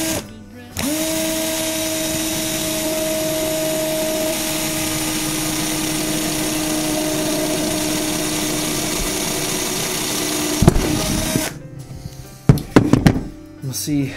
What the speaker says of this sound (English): I'm gonna drill a hole in this section of the pipe I know I'm not using with my most likely drill bit candidate